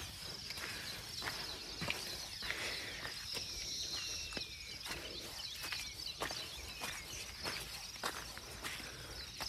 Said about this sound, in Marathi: पक्ष्यांचा आवाज ऐकायला येतच असेल तुम्हाला